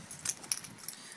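Keys jangling as they are taken from beside a front door: a few bright, short metallic clinks over about a second, fairly faint and close, no talk.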